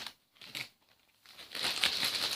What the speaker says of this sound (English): there's going to be a little bit of crunch because, plastic crinkle